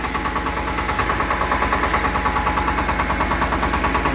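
A Kentavr 244 mini tractor engine runs steadily with its PTO turning at 540 rpm, giving a close, even diesel idle with a rhythmic knocking pulse and some vibration that carries on throughout.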